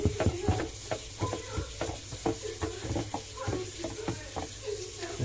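A spoon stirs salt into water inside a dishwasher's salt compartment, giving close, irregular scraping clinks and sloshing over a soft background wash, with a voice faintly present.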